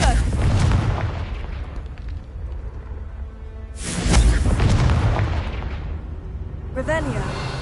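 Confringo spell explosions in the Hogwarts Legacy video game land as two deep, heavy booms with rumbling decay, and the second blast is sharper. A quick magical whoosh follows at the end.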